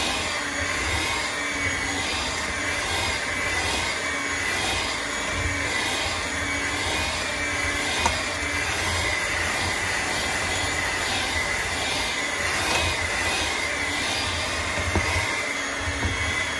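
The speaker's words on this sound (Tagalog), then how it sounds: "And now gagamitin natin ang electric hand mixer to mix this one." An electric hand mixer whirs steadily through batter for a blueberry and dates loaf bread, a continuous loud motor drone with a faint regular pulse, running throughout without talking.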